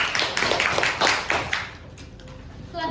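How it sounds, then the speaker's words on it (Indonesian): A classroom group claps for another group of students after their presentation, a burst of quick, close hand claps over the first second and a half, then fading into quiet room tone. "Berikan tepuk tangan."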